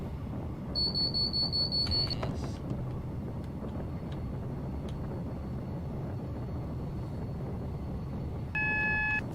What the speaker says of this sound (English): Loads AWS beeps on a route